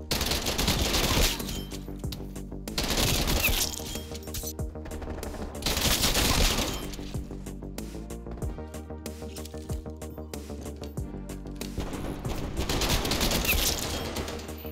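Fully automatic TEC-9 fire rattles out in dense repeated bursts from the Black Ops Cold War video game, with loud sustained volleys and brief gaps between them, backed by constant game music and effects.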